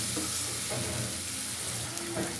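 Garlic paste and onion sizzle steadily in hot oil in a pan, a dense continuous frying hiss with faint stirring scrapes, close and moderately loud with no talking.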